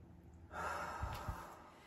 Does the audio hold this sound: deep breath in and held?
yes